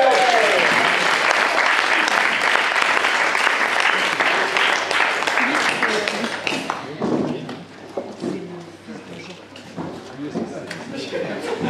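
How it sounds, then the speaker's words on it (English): Wedding reception guests give the bridal party a loud, sustained round of applause that fades after several seconds into scattered claps, footsteps and voices talking. "I welcome on your behalf and with a round of applause to the bridal party."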